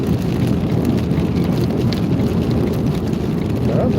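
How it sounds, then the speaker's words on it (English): Cold rain falling outside during a storm in central Illinois, a dense, steady roar of drops hitting surfaces, loud and unbroken throughout. "Man, that's cold rain."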